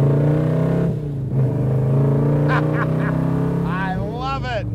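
A 1926 Ford Model T street rod's engine rumbles steadily up close, revving through gear shifts, with someone talking over the engine noise throughout.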